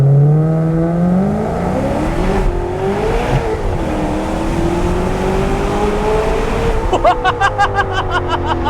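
A Maserati GranTurismo S 4.7 pulls away from a standstill, its engine note rising steadily as it revs up through the gears, loud and close, with a shift near the end before the revs climb again.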